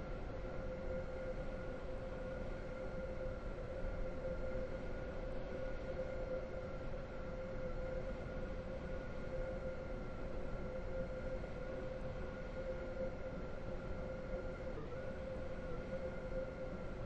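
A train idles at a station in the Roblox railway game Stepford County Railway, giving a steady hum with a faint whine that holds evenly and alone for about seventeen seconds.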